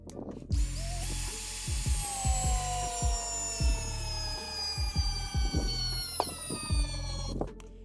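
A sand-clogged Pro-Craft cordless screwdriver runs under load with a steady, high whining motor tone that sags slightly in pitch, broken by repeated low knocks and thuds as it strains, loud and close throughout.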